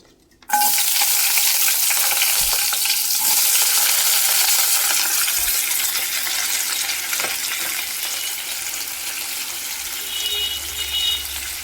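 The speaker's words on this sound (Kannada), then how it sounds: "ಎಣ್ಣೆನ ಕಾದಿದೆ ಈರುಳ್ಳಿ ಹಾಕ್ಕೊತೀನಿ ಅದಕ್ಕೆ" Onions dropped into hot oil in a home kitchen pan burst into a loud, close, continuous sizzle that starts abruptly and holds steady, with occasional stirring clinks, no talk.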